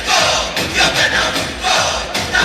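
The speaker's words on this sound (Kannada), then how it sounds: "ಇನ್ನು ಜೋರಾಗಿ ಕೊಡ್ಲಿ ಚಪ್ಪಾಳೆ." An audience at a Kannada film's audio song release event makes loud, close crowd noise that swells and dips in waves of cheering and clapping.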